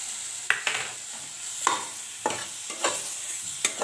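A spoon stirs banana and jaggery into roasted semolina in a pan, giving soft scraping strokes with a faint sizzle and a few sharper clinks against the metal at an uneven pace. Nobody speaks.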